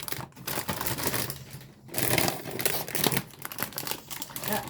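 A large bag of Maxi chips crinkles and crackles as it is handled up close, with dense rustling bursts broken by a few brief pauses.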